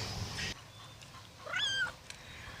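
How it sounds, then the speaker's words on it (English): A cat gives a single rising-and-falling meow outdoors by a garden fence in winter, clear and fairly close after a patch of wind noise, with a faint click following. "The cat doesn't exactly like it that I'm on the wrong side of the fence."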